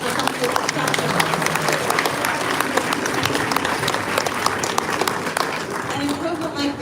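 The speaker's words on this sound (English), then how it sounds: "give a round of applause for something exceptional" A crowd applauds steadily outdoors at a ribbon-cutting event for a coastal corridor project, dense clapping sustained at even loudness throughout with a murmur of voices mixed in.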